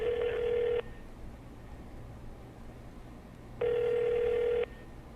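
A telephone rings unanswered in two long electronic bursts, the first at the very start and the second a few seconds later, separated by a quiet hissing pause, loud and close.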